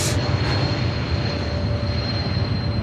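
Airliner jet engines roar continuously at Chicago O'Hare airport, a broad, steady rumble with a faint whine and no break through the whole stretch.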